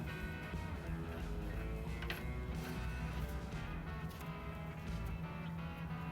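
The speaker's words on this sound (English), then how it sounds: "So now I'm going to install the lock nut." A lock nut goes onto the timing gear of a 1929 Ford Model A Tudor under restoration, with faint, continuous mechanical ratcheting and clicking throughout.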